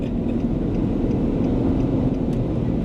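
Steady road traffic rumbles past during a road trip, a continuous low engine drone with the hiss of wind from a moving car, close and fairly loud, with no talk over it.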